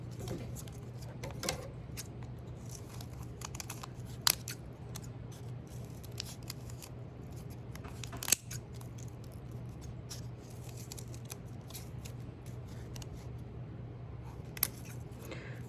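Scissors cutting folded paper for a small snowflake, a series of soft snips and crisp clicks at an irregular pace, with a few sharper louder cuts, close and quiet.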